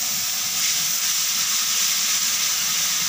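Spice paste with coriander powder sautéing in a pan, a steady close sizzle and hiss that holds evenly throughout without talk.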